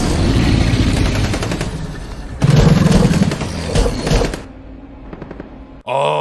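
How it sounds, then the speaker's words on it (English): Rapid bursts of gunfire from a horror film about convicts attacked by alligators during a flood, loud and dense for several seconds, with booming impacts and brief shouting-like sounds, then a sudden cut to a short burst at the end. "Oh, so you fuckers can hear gunshots now"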